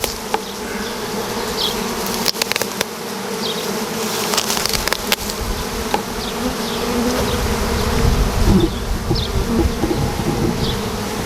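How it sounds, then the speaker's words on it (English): A swarm of honey bees streams into a hive, giving a continuous buzzing drone that swells a little toward the end, with a few sharp knocks and handling noises near the start. "Just the river of bees."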